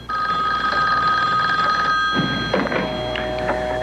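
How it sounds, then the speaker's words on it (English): Telephone bell rings loud and steadily in a 1970s house, a sustained metallic ringing that breaks off after about two seconds, followed by faint handling noises. "Their phone began to mysteriously ring."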